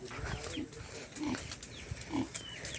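Pigs on a farm grunt and oink in short repeated bursts at moderate distance, with goats also kept nearby and faint voices in the background.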